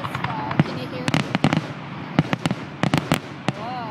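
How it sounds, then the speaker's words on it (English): Fireworks go off over Beaver Lake, Arkansas, in 2012: a run of sharp, irregular cracks and pops, some close and loud, while people talk and exclaim throughout. "You're still lighting the fireworks off, though."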